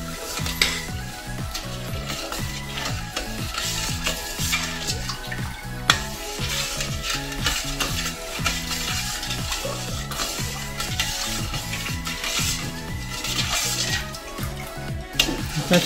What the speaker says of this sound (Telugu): ఈ గిన్నె స్టవ్ మీద పెట్టేసుకొని మనం జీరా కాసుకుందామండి.